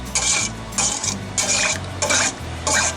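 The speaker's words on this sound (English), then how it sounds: "I'm just going to stir this around" A spoon stirs a mixture of sugar and yeast in a bowl for homemade pizza dough, giving repeated scraping swishes in a steady back-and-forth rhythm, close and fairly loud, with no talking.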